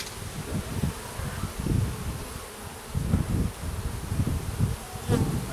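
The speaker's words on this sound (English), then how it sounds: "I definitely got a mad little bee around my head here." A single angry honeybee buzzes close around the head of a beekeeper in a net veil at a top bar hive, its drone rising and falling in loudness as it circles, with outdoor rustle beneath.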